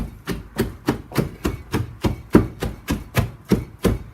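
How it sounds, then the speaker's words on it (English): Purple cabbage being pounded for sauerkraut with a rolling pin: about thirteen evenly spaced, dull thuds in a steady rhythm, close and with no talk. "I find this easier for pounding."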